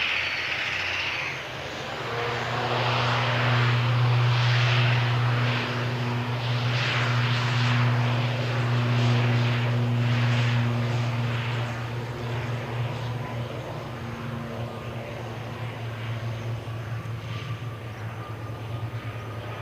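An airplane taking off on a steep climb, a loud sustained engine roar with a strong low drone that swells, then slowly fades as it recedes, heard alone without talk.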